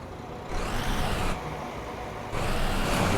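A Neoplan Starliner coach engine in Euro Truck Simulator 2 runs with a steady mid-level drone that swells and drops in volume in blocks, heard alone without talk.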